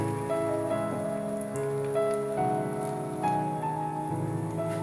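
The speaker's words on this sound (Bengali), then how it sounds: "হিটটা বাড়িয়ে দিচ্ছি জাস্ট ব্রাউন কালার করে ভাজতে হবে" Eggplant slices deep-frying in hot oil over raised heat, a steady crackling sizzle like rain on a surface, continuous and close, with a faint tonal hum running underneath.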